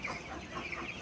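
Broiler chicks cluck and chirp softly on a poultry farm. Short, overlapping calls repeat at a moderate distance, faint and without speech.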